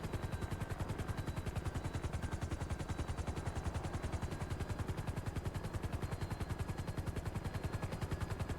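Automatic gunfire rattles without a break in Grand Theft Auto Online, a fast, even stream of sharp shots close and loud for the whole stretch.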